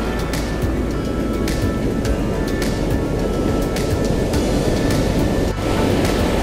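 Ocean surf washes steadily onto a beach at a fishing spot while a lure is being reeled in, a continuous loud rushing wash with periodic swells and no voices.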